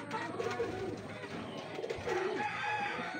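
Pigeons coo softly in a loft, stock birds and breeders kept for racing training, with repeated low throaty calls overlapping at a moderate distance and no talk.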